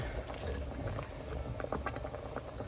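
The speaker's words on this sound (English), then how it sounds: "we're going to pour that boiling water over the top of the beef just to cover it" Boiling water is poured over beef in a pot for a Mennonite beef stew, giving a bubbling, gurgling splash with crackling pops that stays close and fairly steady for a few seconds, with no speech.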